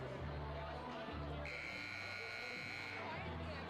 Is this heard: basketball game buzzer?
yes